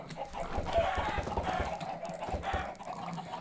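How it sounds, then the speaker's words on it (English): Minecraft chickens on a farm in the video game, clucking repeatedly in short, close, moderately loud bursts over the game's background ambience. "So that will be my new chicken farm."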